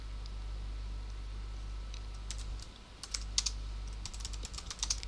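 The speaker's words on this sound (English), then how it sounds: "So we select a window and we would type our text in." Clicky typing on a computer keyboard enters text in media editing software: a quiet, irregular run of key taps that grows busier in the second half over a steady low hum, with no talking.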